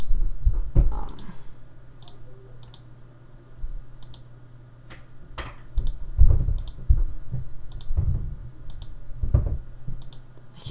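Sharp computer mouse clicks during Photoshop editing, sounding as single and double clicks at irregular intervals, close and crisp, with no speech.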